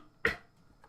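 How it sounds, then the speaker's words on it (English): A single short throat clear, close and sharp, followed by quiet. "I need to clear my throat."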